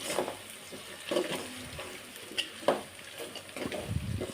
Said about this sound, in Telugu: చూసారు కదా ఇది మొత్తం బాగా ఫ్రై అయిపోయింది